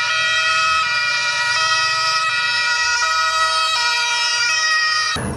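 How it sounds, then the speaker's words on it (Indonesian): A toy ambulance sounds its electronic siren, a loud, steady multi-tone wail that holds for about five seconds before cutting off abruptly, with no voices over it. "ternyata ini ada mobil ambulan"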